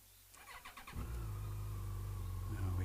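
Yamaha FJR1300 motorcycle engine starting: a short starter whir, then the engine catches and settles into a loud, steady close-up idle.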